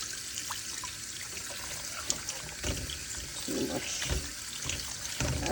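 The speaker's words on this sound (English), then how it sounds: "Right, some cold water. So just a kind of rinse it off." Cold tap water runs steadily into a sink while salt mackerel is rinsed off, a continuous close splashing hiss with small bumps of handling, and a person talks briefly over it.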